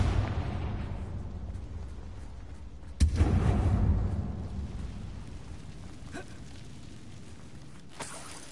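Fire-based blasting curse in Hogwarts Legacy, played on PS4: a single sharp explosive burst rings out midway over a constant low rumble of ambience, followed by a couple of faint later pops.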